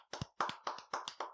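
Hands clap close by in a short burst of six sharp claps at an even, quick rhythm, like a small round of applause.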